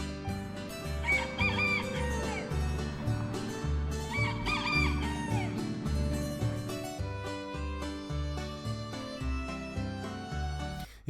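Roosters crow at an open-air farm museum in Germany, two or three drawn-out calls over a steady, rhythmic musical backing throughout.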